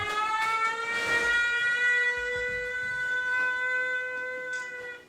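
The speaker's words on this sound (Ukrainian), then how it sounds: "Увага! Повітряна тривога! пройдіть в найближче укриття." An air raid siren wails loud and steady, a sustained tone rich in overtones that holds without pause and rises slightly in strength before easing at the end.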